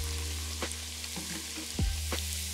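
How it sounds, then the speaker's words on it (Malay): Gluten-free onion fritter batter fries in hot oil, a steady close sizzle broken by a few sharp crackles and a brief thump as the batter is stirred. "Ulang proses menggoreng ni sampai habislah semua adunan tadi."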